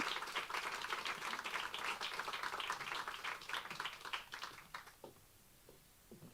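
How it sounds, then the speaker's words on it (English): An audience at a translation prize ceremony claps for the winner, a faint, dense patter of many hands that thins and fades away toward the end. "perhaps another round of applause for our winner of the translation"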